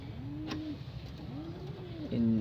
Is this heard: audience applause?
no